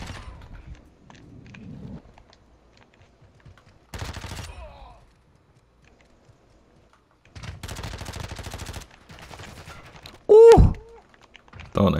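Bursts of gunfire from the Modern Warfare 2 video game on the Shipment map in a 1v1 match: several separated volleys of rapid shots, followed by a louder sharp report near the end.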